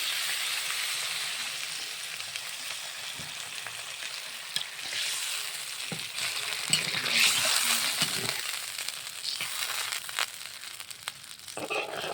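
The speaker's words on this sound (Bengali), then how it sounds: "ঝোল ঢেলে দিলাম।" Fish curry broth poured into a hot pan hisses with a steady, close sizzle that runs for the whole stretch, mixed with faint crackles, and no one talks over it.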